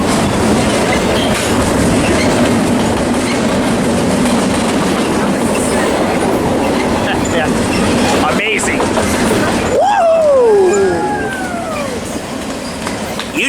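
A freight train with trailing Norfolk Southern and Union Pacific locomotives rolls past near Fullerton, a loud close clatter of wheels over rail joints that ends with sharp, rising wheel squeals.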